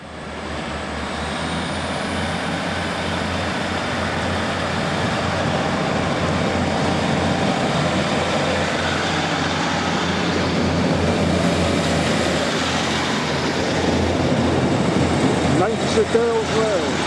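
A train at Manchester Piccadilly railway station rumbles steadily, its engine drone building over several seconds and holding close and loud, while platform announcements play over it.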